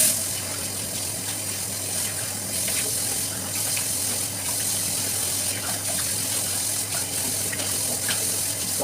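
A tap running steadily into a hotel washroom sink while someone washes their face, a continuous close gushing with small splashes over a low hum, without clear speech.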